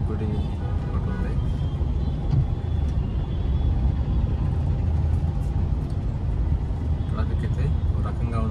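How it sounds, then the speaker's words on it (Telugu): Dense road traffic rolls past near a flyover in Tirupati, a steady loud rumble of cars and heavier vehicles with brief horn-like tones and a voice faintly mixed in. "ట్రాఫిక్ అయితే ఒక రకంగా ఉంది చూడొచ్చు మీరు."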